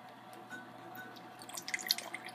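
Water poured from a tap into a measuring cup, a soft trickle and splash with small drips growing busier toward the end, faint and with no voices.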